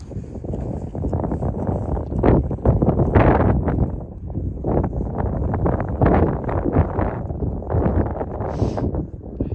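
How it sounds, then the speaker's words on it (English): Strong gusty wind in Wales, at Margam Country Park, buffets the microphone with a constant roar that swells and dips in irregular surges, with no voices. "It's very windy."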